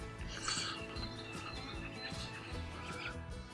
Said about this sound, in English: Couple of robins.